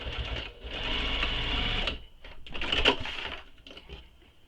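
A sewing machine back stitches a few passes over a fabric bag's connector, close whirring bursts separated by short pauses.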